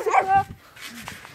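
A person imitates a barking dog with a yipping, whimpering bark voiced up close, a short wavering cry that trails into quieter breathy sounds.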